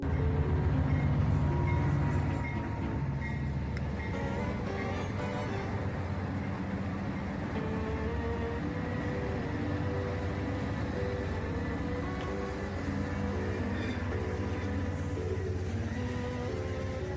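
A holiday train passes by in a steady rumble of rolling wheels and carriages, continuing without a break and without any talk over it.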